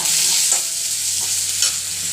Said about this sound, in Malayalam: ഇനി നമുക്കൊന്ന് ഇളക്കായത്